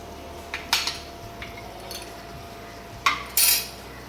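A spoon scrapes and clinks against a pan as red chilli powder, garam masala, coriander powder and turmeric are stirred and sautéed for Puneri misal, with a few sharp metallic taps over a quiet background.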